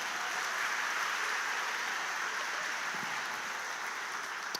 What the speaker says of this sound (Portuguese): Aplaude mais para dar tempo de beber água.